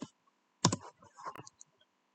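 A few scattered computer keyboard keystrokes, sharp separate clicks in small bursts with pauses between, close and quiet against near silence.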